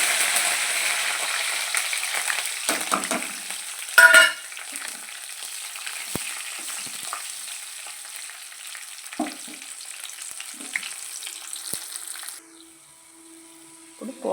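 Garlic, dry red chillies and curry leaves fry as a tempering for sambar, a faint crackling sizzle with a few clinks and stirring sounds, fading out near the end.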